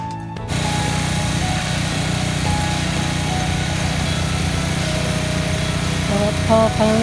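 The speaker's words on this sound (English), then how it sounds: "Pressure washer working good." After a brief lead-in, an engine-driven pressure washer starts up and keeps running loud and steady at close range, a constant mechanical drone with some faint metallic tones near the end.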